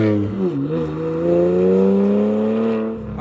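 BMW 335i with a straight-pipe exhaust revs up close and loud, the engine note rising smoothly and holding a raspy drone before easing off, with no talking.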